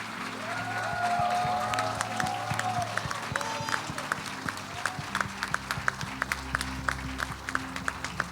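Pentecostal church congregation applauding during a worship service, a moderate wash of clapping with scattered sharper claps, heard under background music.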